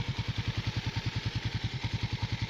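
A Raider F.I 150 motorcycle with stock pipe and a stuck engine idles after start-up, a steady, close, rapid putter of regular exhaust pulses with no revving.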